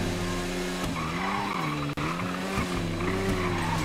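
A car is driven fast and spins in the video game GTA V: a steady engine drone under a long tire screech that rises and falls as the car slides, loud and close throughout.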